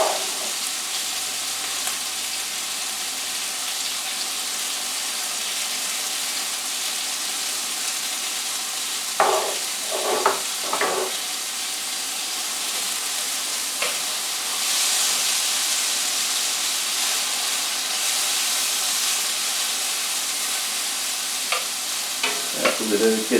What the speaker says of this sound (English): add our little bit of onions here and let them sweat out a little bit